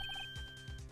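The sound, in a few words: phone ringtone in the video game Ace Attorney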